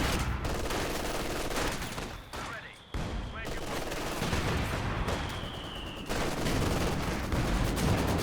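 Mortar pit barrage in Company of Heroes 2, dense overlapping explosions and gunfire rumbling nearly continuously with a brief lull before the blasts resume loudly.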